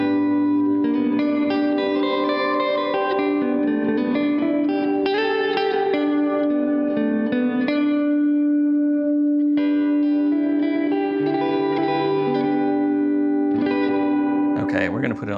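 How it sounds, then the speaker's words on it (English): Electric guitar played through a Donner Verb Square budget reverb pedal, sustained notes and chords ringing out with a long echo-like wash that carries over from one phrase to the next, loud and steady throughout. "it's a reverb, but it almost sounds like echo"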